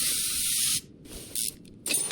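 A spray can is used on a car part in Car Mechanic Simulator 2021 while restoring a 1960 Chevrolet Corvette C1 barn find. A sharp aerosol hiss runs for under a second, followed by two shorter spray bursts.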